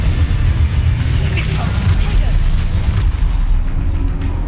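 A Confringo fire-blasting spell cast in the Hogwarts Legacy video game, heard as a dense, steady low rumble with a few brighter bursts layered over ongoing game noise.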